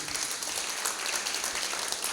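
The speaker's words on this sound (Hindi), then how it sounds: "नाटक आप लोगों को अगर पसंद आया तो तालियों के साथ कलाकारों का स्वागत तो कीजिए।" A theatre audience in Gwalior claps for the actors after a stage play, a dense, even patter of many hands heard from within the hall for a short stretch.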